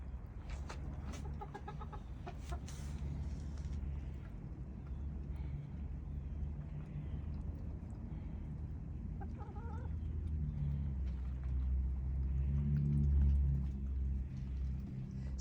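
Hens inside a coop cluck and murmur intermittently at a moderate distance, with occasional sharper calls over a low, steady background hum.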